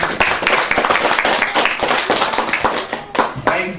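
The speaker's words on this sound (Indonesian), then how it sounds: "Jadi mari kita sama-sama memberi aplaus untuk presentasi." An audience at a presentation session gives a burst of hand clapping, loud and fairly dense, with claps sounding throughout the few seconds.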